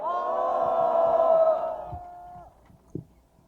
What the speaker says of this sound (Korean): 환호 부탁드리겠습니다.